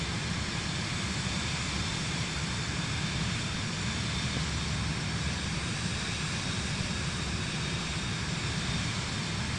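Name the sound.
airplane flying in video game Microsoft Flight Simulator 2024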